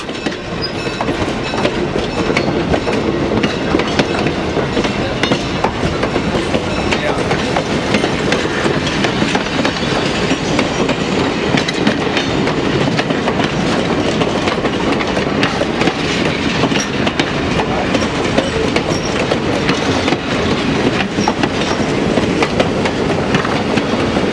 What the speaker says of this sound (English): The train crosses Farwell Bridge.